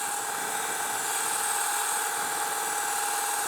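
The high-pitched electric whine of a Sur Ron Light Bee QS165 motor climbs a steep road. The close, steady drone carries a faint rushing undertone and holds without letup.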